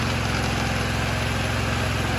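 A Honda Elite 150 scooter engine runs at a steady idle right after starting, with a close, even low-pitched putter throughout and no talking.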